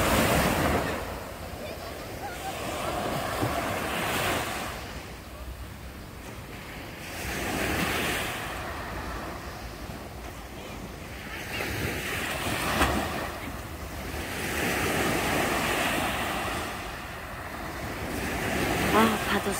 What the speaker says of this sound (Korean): 파도 소리 시원하게 들리시죠?